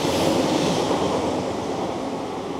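A Class 150 diesel train passes through a station in Bolton, giving a steady, loud rolling rumble of wheels on rail that fades slightly by the end.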